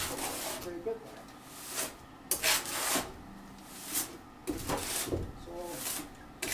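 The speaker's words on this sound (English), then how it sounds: "If it's dry back there, which it is, I'm going to just shove more wet mortar in and scrape it back." Trowel scraping and pressing wet mortar into dry gaps on a cabin, a series of close, uneven rasping strokes with short pauses between them.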